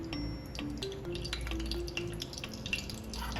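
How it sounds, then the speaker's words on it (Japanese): Garlic-infused oil is poured back into a pan, giving light drips, soft spatters and a faint sizzle at low level, with scattered small clicks and no talk. "ニンニクを取ってこのオイルを戻していきますね。"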